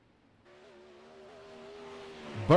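A race car at a Volusia dirt-track 360 sprint series event rolls in to park after the race, its engine humming low and steady, gradually growing louder as it approaches, ending with a sudden sharp burst.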